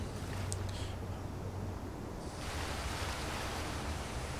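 Underwater-style swimming in Skyrim near a waterfall, heard as steady broadband rushing water and surf-like noise that shifts brighter halfway through, continuous with no talk.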